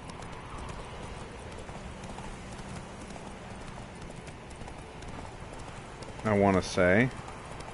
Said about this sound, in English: Horsey, come to me.